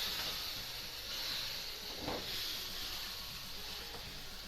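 Chicken pieces frying in masala in a karahi give a steady, close hiss and sizzle, with a brief louder crackle burst partway through.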